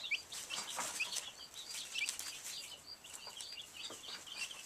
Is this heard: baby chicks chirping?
yes